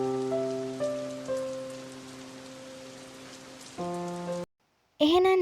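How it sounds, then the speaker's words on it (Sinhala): Heavy rain falls in a steady, close hiss, with sustained tonal hum-like notes layered over it; the sound cuts to silence briefly near the end before loud noise resumes. "දැන් ආයිමත් ඉතින් වහිනවා."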